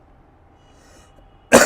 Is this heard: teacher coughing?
yes